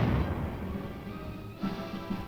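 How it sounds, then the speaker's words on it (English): Tanks firing a heavy bombardment in Korean War-era newsreel footage of United Nations forces against Chinese troops, a dull low rumble that fades and then booms again, muffled and distant on an old, noisy recording. "the tanks continue their heavy bombardment."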